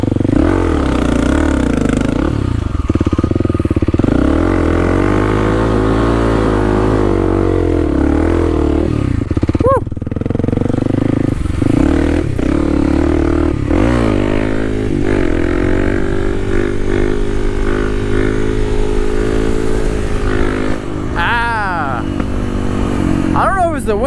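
Kawasaki KLX300 dirt bike engine revving hard during wheelie attempts, a steady loud drone with repeated rises and falls in pitch, continuous and close throughout with a brief dip near the middle.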